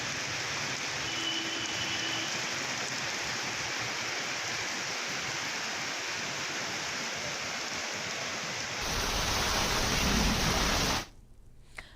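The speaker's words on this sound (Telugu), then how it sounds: "హనంకొండ జిల్లాలో భారీ వర్షం కురిసింది" Heavy rain in Hanamkonda district pours down in a dense, continuous roar, growing even louder toward the end before cutting off abruptly.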